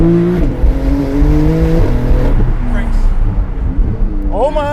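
A 2018 Porsche 911 GT2 RS launching hard on a track with launch control, its engine note climbing sharply through several quick gear changes, loud and close, with a voice breaking in at the end.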